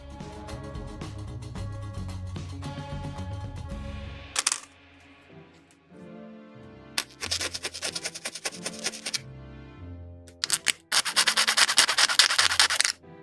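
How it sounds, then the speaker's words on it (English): Hand filing and sanding of soft plastic parts from a 1/72 scale German E-75 tank model kit, with rapid rasping scrapes in bursts separated by brief pauses and short clicks of parts being handled, close and fairly loud with no talk. "It's very soft plastic at least, so it's easy to file and stuff"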